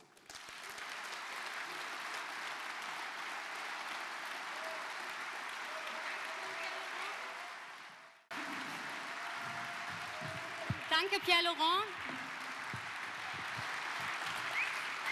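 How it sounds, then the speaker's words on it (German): A crowd at a European Left political rally applauds steadily for about eight seconds. After a brief cut, the applause resumes and someone speaks briefly over it. "Großer Applaus für Pierre Laurent"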